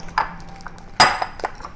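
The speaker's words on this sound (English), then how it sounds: "We're gonna clean the bowl." A stick clinks against a bowl while the bowl is cleaned out after slime making. Two or three short, bright clinks and taps sound close by, with quiet gaps between them.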